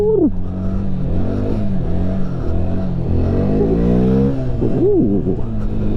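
A Honda Grom motorcycle engine runs steadily while riding, its pitch rising and falling as the throttle is worked and revved, loud and close throughout, with no talk.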